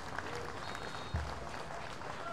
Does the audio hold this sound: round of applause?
yes